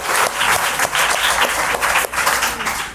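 A studio audience at a school quiz show applauds a government school student, with steady, dense clapping that stays loud and close throughout without a break.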